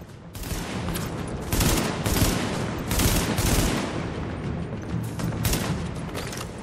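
Rapid automatic gunfire from a scoped rifle in the shooter video game Tom Clancy's The Division, dense and loud with bursts cresting repeatedly across the whole stretch, no voices over it.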